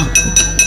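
A small bell rings during a Javanese wayang kulit puppet show, three quick bright metallic dings spaced evenly and close, loud against faint background noise, with no talking.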